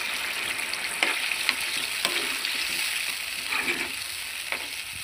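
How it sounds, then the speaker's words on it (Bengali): Hot water poured into a pan of frying potatoes and papaya, giving a steady close sizzle broken by sharp crackles and spits. "পুরোপুরি ভেজে রাখা জলটা, এটার মধ্যে গরম করা জলটা এটার মধ্যে ঢেলে দেবো"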